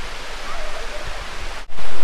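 Tagkuriring waterfall in Puerto Princesa pours into a deep river pool, a constant broadband rush of falling water heard close by, ending in a sudden louder surge.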